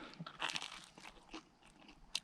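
Homemade bread crust being bitten and chewed up close, giving a run of sharp, dry crunches with uneven gaps and a loud final crunch, with no talking.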